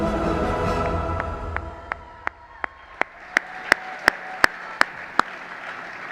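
Audience applause and cheering at a police department annual awards ceremony, loud and dense at first, then fading within about two seconds into a quiet room where a series of sharp, evenly spaced single claps rings out.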